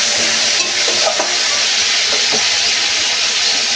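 Chopped tomato with a spoonful of salt sizzling and frying in a hot pan, a steady bright hiss throughout with a few soft stirring scrapes, close and loud, no talking.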